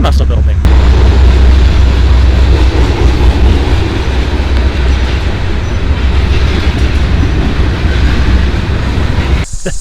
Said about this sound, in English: That was great timing for the train to roll by there.